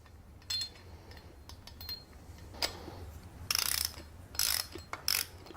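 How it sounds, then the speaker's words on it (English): A 12 mm nut on a 1/5 scale two-stroke engine is driven with a socket ratchet, giving sparse light clicks followed by several quick, close bursts of ratcheting near the end. "The size of the nut is 12 mm. I'll drive it in with the nut socket."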